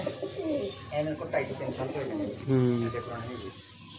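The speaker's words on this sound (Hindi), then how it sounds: "ये इनके डब वाले कबूतर हैं।" Ferozpuri-breed pigeons coo in soft, repeated throaty bursts from close by, mixed with people talking over them.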